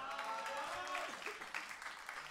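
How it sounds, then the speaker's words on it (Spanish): Audience applause and cheering at a live concert in a club venue, Sala SCD Bellavista, steady and dense for a couple of seconds with voices mixed in and a sustained musical tone underneath. "Un aplauso para él."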